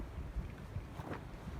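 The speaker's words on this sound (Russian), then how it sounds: "Этот ветер, так неудобно сажать, но что делать?" Gusty wind buffets an outdoor garden plot during onion planting, a steady low rumble of wind noise on the microphone with brief swells and no other clear sounds.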